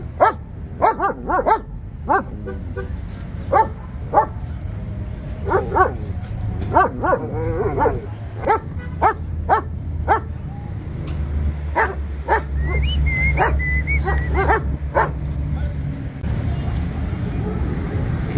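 French terriers and other dogs bark repeatedly in sharp, overlapping yaps at a pet market street in Adhamiya, Baghdad, with traffic rumble and people talking underneath.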